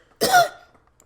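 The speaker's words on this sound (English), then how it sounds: "Gag cough." A character in the horror video game Corpse Party: Book of Shadows gives a single short, close gag and cough, a sharp burst that fades within half a second.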